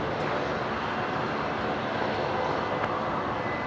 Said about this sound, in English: best shots I've ever caught of Qantas 126 on arrival here at Brisbane